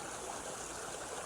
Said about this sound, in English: got the water coming down this creek here